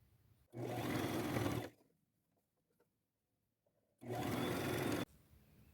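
A sewing machine stitches pleated fabric in two close, loud bursts of rapid mechanical whirring, each about a second long, separated by a quiet pause with faint handling noises.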